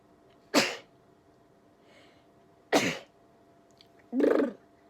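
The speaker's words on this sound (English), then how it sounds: "Oh, I need to sneeze." Three sharp sneezes from one person, loud and close, spaced a couple of seconds apart in a quiet room, the last one longer and throatier.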